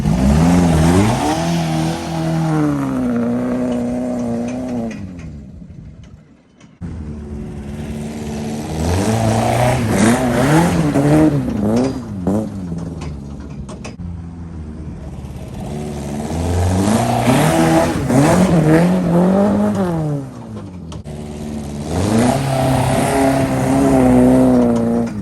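A Wartburg 311 car, rear-wheel drive, revs hard and drives off, its engine pitch climbing repeatedly through several gear changes with brief dips between, loud and close throughout.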